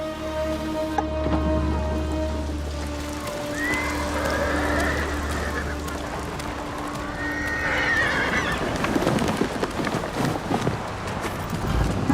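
A horse whinnies twice in Ghost of Tsushima Director's Cut, drawn-out and fairly close, over a steady low rumble and faint background ambience.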